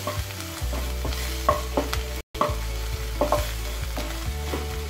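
Masala with coriander powder frying in a pan for vada pav filling, with repeated spoon scrapes and taps against the pan over a continuous close sizzle, briefly cut out midway, no voices.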